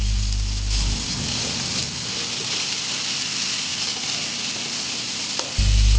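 Tomato and cauliflower frying in a pan give off a dense, steady sizzle like rain hiss that runs throughout, with heavier low rumbles at the start and end.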